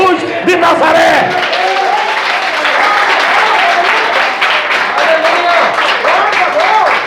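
A church congregation applauds loudly and steadily, dense clapping mixed with cheers and shouts of praise filling the room throughout.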